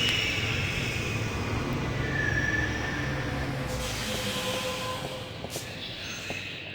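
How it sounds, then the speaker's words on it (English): Train rumble in The Longest Journey game, a broad hissing roar that is loud at first and gradually eases, with light metallic clicks near the end. "And then we'll get on the train here."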